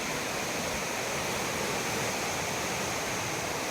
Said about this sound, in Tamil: நல்லா ஃபோர்ஸில் தண்ணி போகும், பயங்கரமாக நைட்டெல்லாம் சவுண்டு கேட்கும் தண்ணியோட சவுண்டு